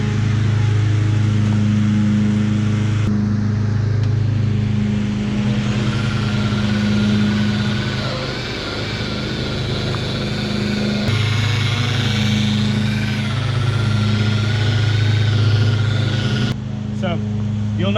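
A machine polisher cuts compound into the original paint of a classic Ford F100 left outside for 40 years, working over a surface-rusted hood. It gives a steady droning hum with slight shifts in load, and a voice talks over it.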